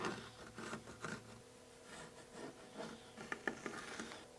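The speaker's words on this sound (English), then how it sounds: "And I'm just going to sketch this in." A pencil sketches guidelines on a wooden eel lure blank, producing quiet, close scratchy strokes in short irregular bursts with a faint steady hum underneath.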